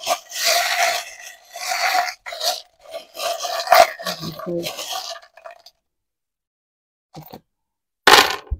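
Tarot cards are shuffled up close in loud bursts of riffling and rubbing. A few short gaps separate the bursts, and a brief spoken word is heard.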